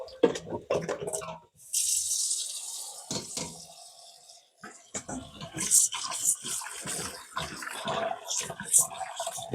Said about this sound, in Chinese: 现在我们来把它换一换水